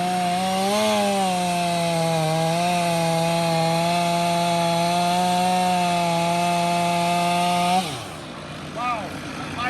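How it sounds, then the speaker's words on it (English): Stihl 500 chainsaw cutting through a large dead tree, loud steady high-pitched engine whine held for about eight seconds before cutting off abruptly, with brief voices and movement after. "Now he's using a 500 Stihl."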